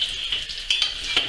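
Crackling sizzle of bacon and duck frying in a cast iron pot, with bursts of louder spitting over a steady high hiss.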